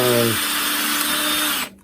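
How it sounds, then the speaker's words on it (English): A power drill bores a hole through plywood for a simple bandsaw table, giving a steady, close whine that runs for nearly two seconds before cutting off abruptly. "right down the middle and drill a hole, so we don't want that plywood to split"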